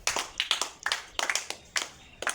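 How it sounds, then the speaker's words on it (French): A church congregation claps in acclaim during a service, sharp hand claps arriving in quick rhythmic clusters with brief gaps between bursts, fairly close and moderately loud, with no talking. "On acclame pour Jésus"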